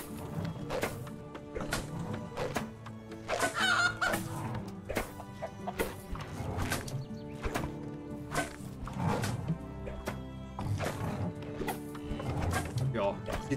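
Chickens clucking in the farming game Medieval Dynasty, three grown hens giving scattered clucks amid light game music and sharp knocks, with someone talking over them.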